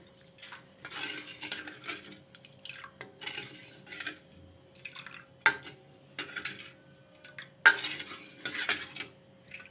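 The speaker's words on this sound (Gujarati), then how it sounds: "ચમચીથી મદદથી આપણે એને હલાવી લેશું." A spoon scrapes and clinks around a metal pot of kadhi in repeated strokes, close by, with brief sharp taps against the rim.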